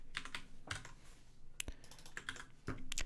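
Code is typed on a computer keyboard, with quick irregular key clicks and a few sharper taps, close and fairly quiet with no voice.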